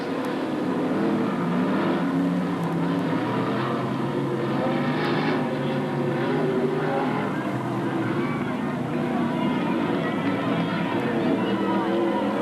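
Race cars roar steadily in a loud, dense pack at Magic City Speedway, engines droning continuously while an announcer's voice talks over them.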